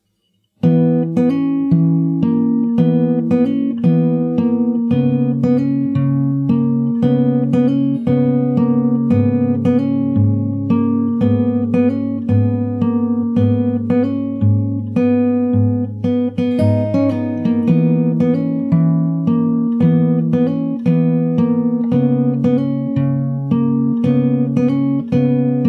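Fingerstyle acoustic guitar plays the verse of a song, with steady plucked notes over sustained low bass strings, close and clear, with no voices, running unbroken for the whole stretch.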